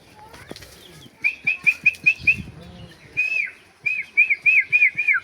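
A common myna gives repeated bright, whistled chirping calls in two quick bursts, with soft wing flutters and thumps close by.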